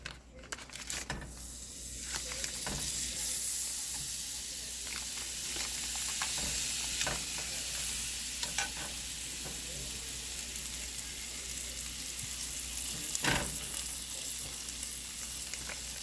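Butter melting and sizzling in a pan on very low heat before green beans go in, a steady soft hiss with scattered crackles and an occasional utensil scrape, close by.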